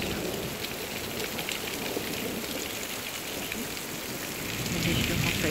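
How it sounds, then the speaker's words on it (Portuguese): Heavy rain pours steadily in Germany during a thunderstorm, a dense, loud hiss of drops on surfaces that swells slightly toward the end. "a chuva tá forte."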